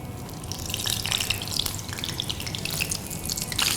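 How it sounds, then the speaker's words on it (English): Spinach and cheese fritters fry in hot oil, a close, steady sizzle with dense crackling pops running evenly throughout. "we need to now put them in hot oil once again"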